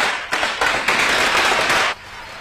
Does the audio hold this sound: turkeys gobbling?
no